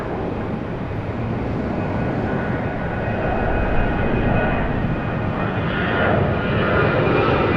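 Airplane taking off from runway 34 left, a loud steady engine roar that holds continuously from start to finish with a slight swell in the later seconds.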